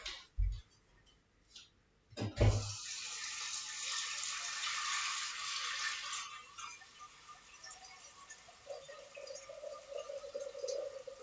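A kitchen tap runs water into a container for cooking potatoes. Two knocks come first, then a steady rushing hiss for a few seconds before it fades to a quieter trickle.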